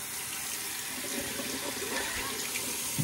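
Steady rush of running water splashing into a bathroom sink, close and continuous for a few seconds with no talking.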